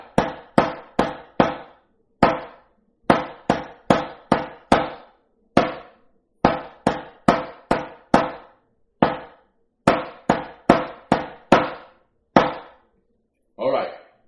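Drumsticks clicked together in a lesson exercise, playing four eighth notes on beats one and two and quarter notes on beats three and four: crisp, close, dry wooden clacks repeating in a steady pattern, alone.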